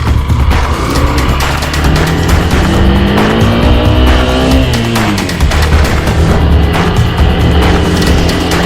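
A Hero Xpulse motorcycle engine revs continuously up close on a loose gravel dirt track, pitch rising and falling with throttle changes throughout.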